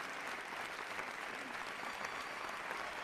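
Steady, even applause from an audience at a Uruguayan corporate awards ceremony honoring a company ranked second among medium-sized businesses, moderately distant and sustained throughout.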